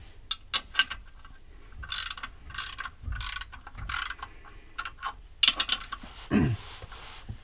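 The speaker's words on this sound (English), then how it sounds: "So far, the ratchet feels pretty good. There's no slipping in the internal components. The gears and cogs are catching nice." A ratchet wrench clicks in short bursts, its pawl catching crisply on the internal gears. Several separate runs of ratcheting are heard close up in a quiet space, with no talk.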